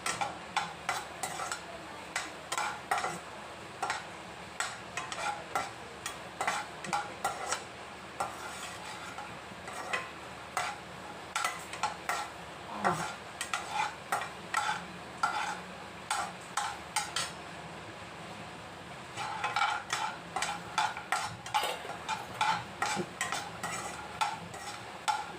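A whole mung mixture for laddoos roasts in a pan while a spoon stirs and scrapes it in rapid rhythmic strokes, clicking steadily over a soft sizzle with a brief lull midway.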